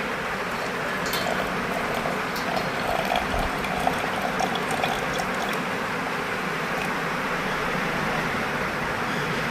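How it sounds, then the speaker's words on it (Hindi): Water poured into a homemade herbal remedy mixture for skin blemishes and facial spots, a steady close splashing and trickling wash lasting the whole stretch, with no talking over it. "हम इसमें अब थोड़ा सा पानी डाल देते हैं।"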